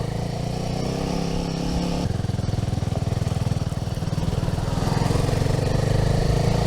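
A road grader's heavy diesel engine rumbles steadily nearby, its low drone growing louder and rougher as the machine passes close.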